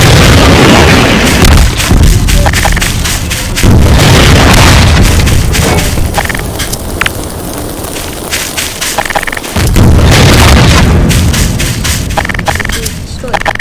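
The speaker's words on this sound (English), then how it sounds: "here we have more explosions" Repeated deep booming explosions in Garry's Mod roll out in heavy rumbling waves, loud and close, with a voice talking over parts of the blasts.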